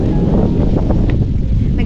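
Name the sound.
strong wind blowing into the microphone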